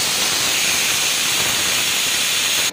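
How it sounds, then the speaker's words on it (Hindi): A pressure cooker whistle releases steam while dal cooks, a loud continuous hiss that holds steady and then cuts off abruptly at the end. "अब ये कुकर सीटी 4-5 सीटी मार दूँगी,"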